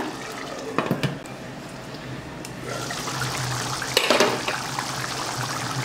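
Chana masala gravy simmers in a pan, a soft bubbling and popping close by with a couple of brief clatters, steady and fairly quiet, no speech over it.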